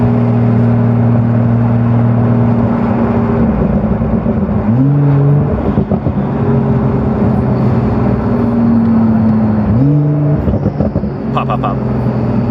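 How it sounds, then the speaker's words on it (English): Twin-turbo Lamborghini engine making about 1000 horsepower, heard from inside the car as a loud, sustained drone that climbs in pitch with each pull, easing briefly between two rising runs under the throttle. "you have to be in the throttle to hear the turbos"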